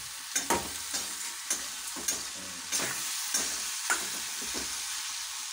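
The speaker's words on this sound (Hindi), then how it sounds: "जल्दी हम पोहा को मिक्स कर लेते हैं, धीरे धीरे इसे मिक्स कर लेते हैं" Cooked poha being mixed in a pan, with soft sizzling under several distinct scrapes and knocks of a spoon against the metal, close up, unhurried and spaced out, with no talking.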